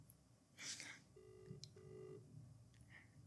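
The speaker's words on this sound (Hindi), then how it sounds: "वीडियो कॉल कर दो, हाँ, वीडियो कॉल करते हैं अतुल को।" Outgoing video call ringback on a phone, a pair of steady electronic tones repeating in a short pattern, fairly faint, with a brief rustle before it and low room noise underneath.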